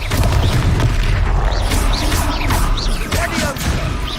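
A Confringo fire spell goes off in the Hogwarts Legacy video game, a dense, loud, continuous roar of blasts with whooshing streaks, filling the scene without a break.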